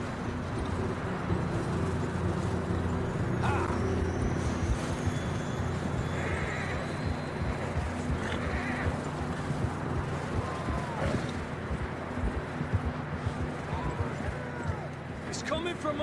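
Horses in the Red Dead Redemption 2 video game: a whinny and hoof clatter sit under a dense, steady wash of outdoor game noise and music that runs loud and even for the whole stretch.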